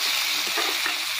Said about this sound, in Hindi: देखिए कितना सुंदर फ्राई हो रहा है